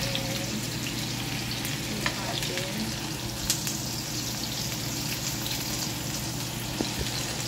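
Onion frying in a pan for pinakbet, a dense, steady, close sizzle with a few faint clicks over its whole length.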